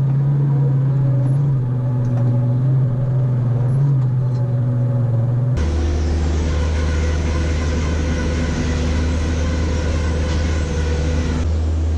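Farm tractor hauling a final load of bedding pack manure, with a loud steady engine drone and low rumble heard from the cab that shifts to a deeper, heavier tone partway through.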